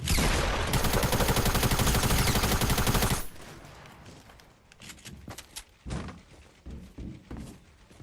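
Rapid automatic gunfire from the video game Fortnite rattles loudly and continuously for about three seconds. Quieter scattered shots and footsteps follow.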